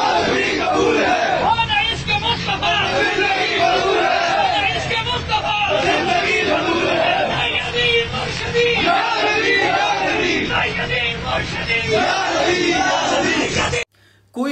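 A large crowd chants slogans in one man's name, a loud, dense roar of many voices that carries on without a break before cutting off abruptly near the end.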